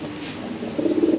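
A pair of large fancy pigeons coos close up in a low, steady, rolling murmur that swells louder near the end before cutting off.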